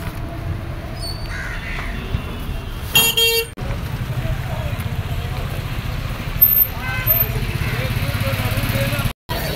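Heavy street traffic at the busy Bhaucha Dhakka fish market in Mumbai, with an engine rumble, scattered honks and cawing crows. People talk over it almost throughout.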